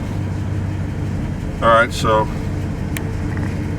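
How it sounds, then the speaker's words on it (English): A 1956 DeSoto's engine, a new engine in an old Mopar, cranks briefly twice on a cold start amid steady background noise, with a person speaking at the start. "I'm going to start the car."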